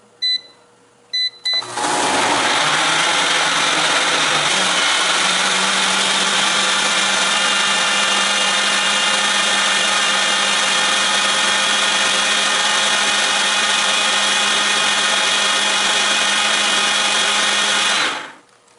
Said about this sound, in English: Now for the last 2 tomatoes, and time to blend this up.